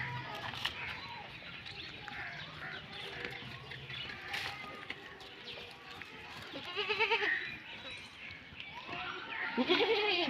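Goats bleat several times over busy background noise in a rural household, with people talking around them and bird sounds mixed in.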